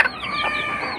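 A brooding white hatch muff hen gives a short run of soft, rising and falling clucks, close by and alone.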